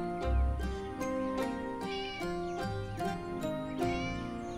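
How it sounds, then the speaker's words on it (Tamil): Kittens out in the cold mew repeatedly in short, high cries, several overlapping in quick succession with a low thump near the start. The mewing is fairly close and stands over a steady background of sustained tones. "பாவம் குளிர்ல கத்துதுங்க."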